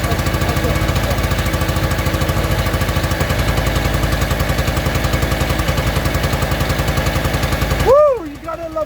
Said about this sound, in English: You gotta love a two-stroke.